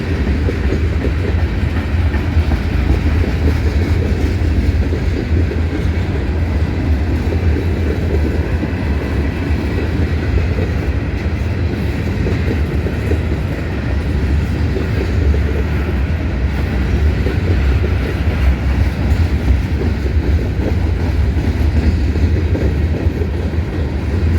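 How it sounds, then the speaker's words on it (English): A heavy loaded train rumbles steadily past going uphill, its low drone and rhythmic wheel clatter continuous and loud throughout, laboring slowly without pause. "It's getting slow because it's got a heavy train going up the hill"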